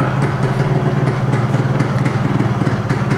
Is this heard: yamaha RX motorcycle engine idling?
yes